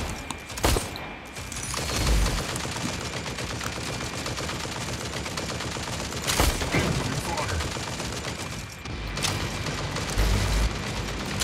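Sustained rapid-fire bursts and booms of mech weapons in the video game Mech Arena, dense and loud throughout, with a player's voice talking over the battle.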